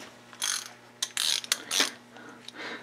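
Ratchet clicks in short bursts while a nut is tightened on the bottom end of a Kawasaki KX 125 engine, several quick clattering runs with brief pauses, close and fairly loud.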